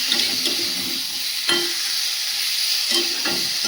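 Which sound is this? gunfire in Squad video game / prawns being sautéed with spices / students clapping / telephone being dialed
prawns being sautéed with spices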